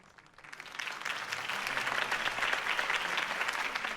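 A crowd in the Telltale Batman video game breaks into applause after a campaign speech, quiet at first then building quickly into sustained clapping that holds steady at moderate distance.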